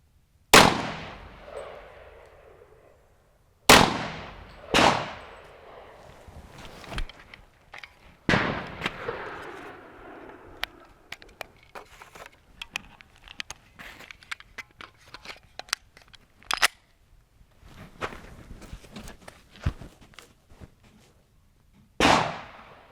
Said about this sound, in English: let's go ahead and get set up and we'll get some rounds down range